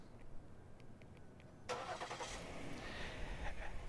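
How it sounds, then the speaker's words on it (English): A Lincoln MKX, started by remote key fob, cranks and catches after a quiet stretch with a few faint clicks, then settles into a steady mid-pitched idle nearby. "Now it's remote started again."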